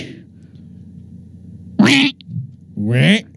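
A man imitates a duck with two loud, nasal quacks, each about half a second long, in a quiet room after a stretch of near silence.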